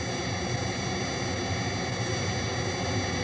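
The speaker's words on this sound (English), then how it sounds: "Let's listen to how this jet noise can be altered when parts of it are filtered or removed." A synthesizer produces jet engine noise: a steady, unbroken broadband roar with a low rumble underneath, holding an even loudness throughout and heard alone.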